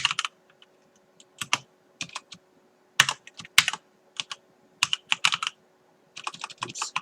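Code being typed on a computer keyboard: bursts of crisp close key clicks in irregular clusters separated by short silences.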